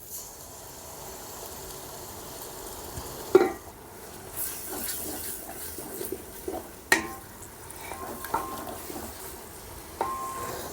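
Ginger garlic paste and yogurt sizzle softly in a pot for chicken biryani, with several sharp scrapes and knocks as a spoon stirs the mixture.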